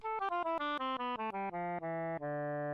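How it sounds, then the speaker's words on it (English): Synth oboe tone from the Purity plugin plays a stepwise descending run of short detached notes that lengthen toward the end, reedy and clear, alone and near. "we have the oboe,"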